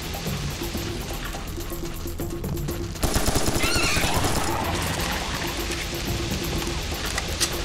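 Machine gun firing in the video game Serious Sam 3, a rapid rattling burst that starts abruptly partway in and keeps going over background game noise, with a horse-like whinny mixed in.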